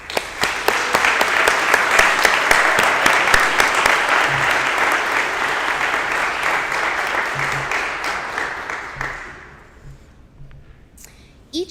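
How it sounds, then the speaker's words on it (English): An audience at a school fine arts awards assembly applauds for students, giving a loud, dense burst of clapping that holds steady for several seconds before tapering off to a few scattered claps. "Please join me in a round of applause for these students."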